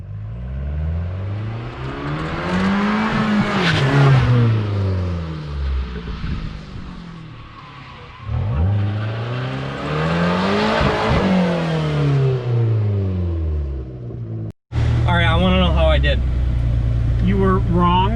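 An Abarth car fitted with a Racechip tuning module accelerates hard in race mode, its engine note rising and falling through repeated loud revving sweeps up close, with voices near the end.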